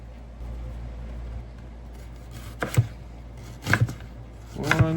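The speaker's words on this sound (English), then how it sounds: "This is how we slice the onion" A knife slicing through an onion, giving three distinct crisp cuts about a second apart, close and clear over a low steady background hum.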